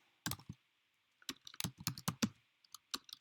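Computer keyboard typing, scattered clicky keystrokes in short irregular bursts with a long pause near the start, quiet and close against a faint background hiss, no voices.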